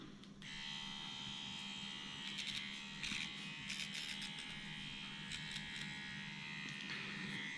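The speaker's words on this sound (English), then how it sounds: "So we're gonna fire the machine up." A Dragonhawk tattoo machine runs at 6.5 volts on practice skin, a steady close-up electric buzz with a faint hum that holds throughout, with light rattling bursts as it touches the surface.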